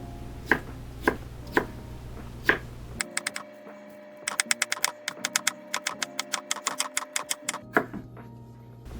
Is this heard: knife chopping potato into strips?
yes